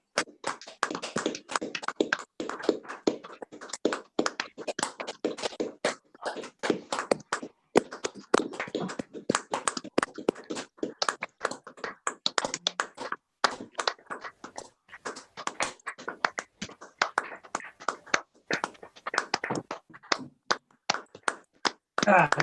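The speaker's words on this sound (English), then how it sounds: "Right, you're clapping." Many people clap at an annual council meeting, a long stretch of uneven, dense sharp claps and taps, close and fairly loud, with voices speaking among them.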